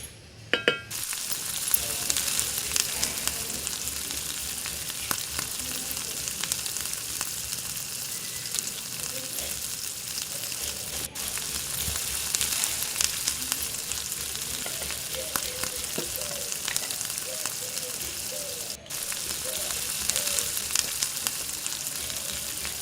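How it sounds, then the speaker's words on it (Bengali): Bok (sesbania) flowers frying in a pan in an outdoor kitchen under a tree, a steady, close hiss and sizzle that continues throughout with no talking. "গাছের তলায় রান্নাঘরে গরম গরম বকফুল ভাজা তৈরি"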